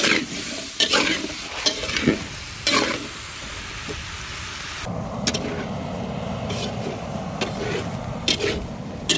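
Potatoes and pointed gourd with a little turmeric stirred in a frying pan in a village kitchen, a continuous sizzle with repeated scraping strokes and spatula knocks, close and steady.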